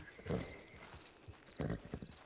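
Horse hooves clip-clop in Red Dead Redemption 2, two clear clusters of hoof strikes with faint softer steps between them, moderately close over quiet ambient background.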